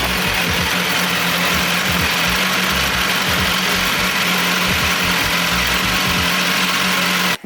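A BMW S1000RR superbike engine runs steadily at idle throughout, a loud continuous mechanical drone with low rumble and vibration, no talking over it.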